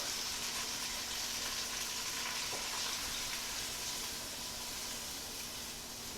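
Beef stock poured into a hot pan to deglaze it for beef stroganoff sizzles and hisses in a dense, steady wash that eases off slightly toward the end, close and alone with no talk.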